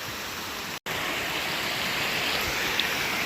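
Fast-moving river water near Multnomah Falls rushes in a steady, close broadband roar, interrupted by a brief total dropout before the flow continues unchanged.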